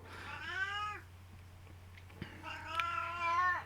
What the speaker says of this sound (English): kitty cat behind me, meowing